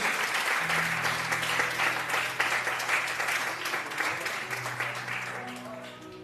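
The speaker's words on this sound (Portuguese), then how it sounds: "Aplauda o Senhor em nome de Jesus" A church congregation claps steadily in praise, the dense applause mixed with organ or keyboard tones underneath.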